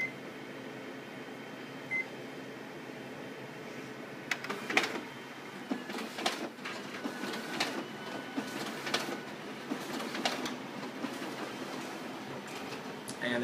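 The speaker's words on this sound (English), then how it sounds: "we're going to run them through the document feeder, make sure that functions well" A Ricoh MP C6501sp copier runs pages through its document feeder, giving a steady mechanical whir with repeated short clicks and paper-feed swishes at a close, moderate level.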